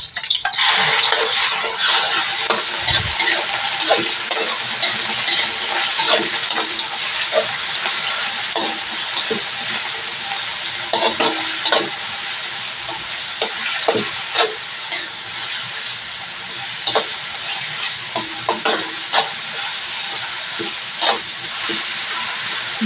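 Onion and meat ingredients frying for pancit in a hot pan, a loud continuous hiss and sizzle broken by frequent scraping stirs and clinks of a utensil, steady throughout with no talking.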